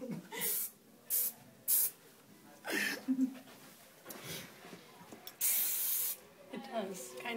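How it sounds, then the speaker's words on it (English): Hair spray bottle spraying onto hair during curling, a series of short hissing bursts of varied length, one longer spray near the end, with a voice heard faintly in the background. "That one sprays all weird."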